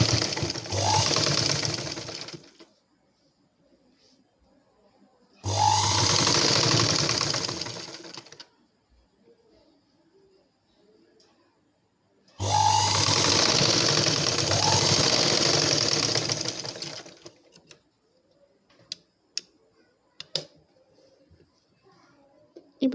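Sewing machine stitching blouse darts, running in three steady whirring bursts of a few seconds each, separated by quiet pauses with small clicks, close up.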